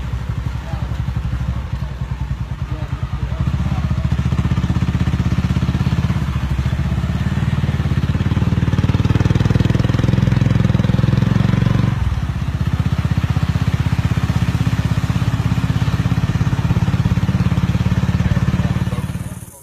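Motorcycle taxi ridden by two men in Salidero, its engine running steadily and close throughout with a brief dip partway, accompanied by rattling and clatter.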